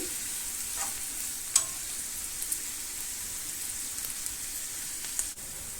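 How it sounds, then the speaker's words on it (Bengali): Onion and garlic fry in a pan, making a constant, close sizzle with a few small crackles and pops scattered through it, and no one speaks. "পেঁয়াজ রসুন ভাজা হয়ে গিয়েছে"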